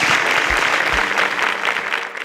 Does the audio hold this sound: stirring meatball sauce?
no